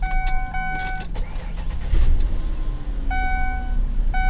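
The engine of a used car, bought at auction with 98,000 miles, idles with a low steady rumble, while a tonal electronic chime beeps on and off above it.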